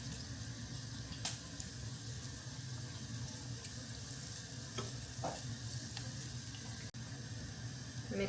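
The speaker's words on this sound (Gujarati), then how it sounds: "તેલ ગરમ થઈ ગયું છે. તો અહીં મેં મેથી નાખી" Fenugreek seeds frying in hot oil, a steady close sizzle and crackle throughout with a few small clicks and clinks.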